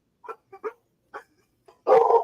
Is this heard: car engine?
no